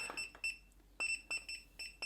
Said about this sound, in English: Press and hold, and you'll turn off the alarm